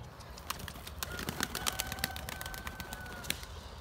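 Pigeons flying and settling near a rooftop loft, brief sharp wing claps and flutters scattered across the moment with a faint whistle-like tone, outdoors at moderate distance.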